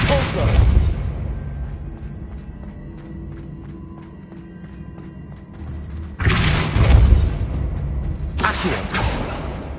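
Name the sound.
Depulso spell cast in video game Hogwarts Legacy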